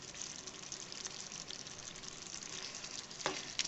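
Kadhai mushroom with kasuri methi being stirred in a pan, giving a steady soft sizzle with faint scraping throughout and a brief sharper clink near the end.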